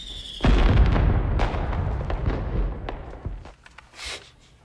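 A sudden loud blast of fireworks bursts and rumbles, crackling and fading over several seconds, followed by a quieter pop or two.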